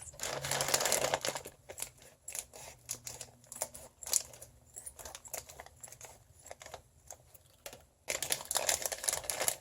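Plastic and cardboard packaging of a McDonald's Pokemon toy is opened up close, with quick crinkles, crackles and tearing rustles in irregular bursts, softer in the middle and busier at the start and end.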